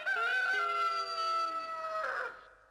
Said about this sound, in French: Les coqs chantent souvent dans la journée, et même parfois la nuit.